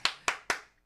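Three crisp hand claps in quick, evenly spaced succession, close and moderately loud, ringing briefly before fading into quiet.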